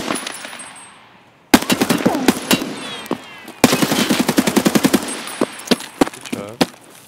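Gunfire in the video game Escape From Tarkov: a near, loud burst of automatic fire, then a longer rapid volley, trailing off into scattered single shots.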